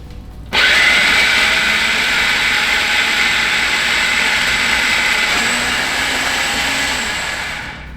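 Food processor pulsing a mushroom mixture with thyme, salt and pepper into a rough paste, a loud steady motor whir starting abruptly after half a second and running continuously, easing off slightly near the end.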